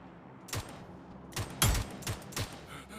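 Gunfire from the shooter game New State Mobile: about six sharp, short shots spaced irregularly across a few seconds, fairly faint, with no talking over them.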